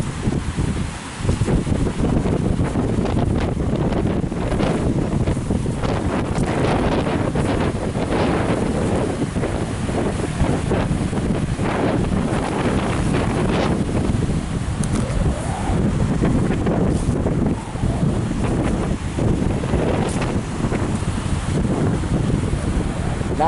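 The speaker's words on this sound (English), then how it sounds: "Well, you got some nice waves out here." Ocean waves rolling onto a Jamaican beach under strong gusting wind that buffets the microphone, a constant loud rush with occasional voices in the background.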